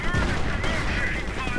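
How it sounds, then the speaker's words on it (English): Mortar rounds and tank fire rumble through a WWII strategy game battle between US and German forces, a dense, continuous barrage of loud booms and crackling gunfire with a voice faintly under the noise. "Mortar rounds falling. This is not looking good."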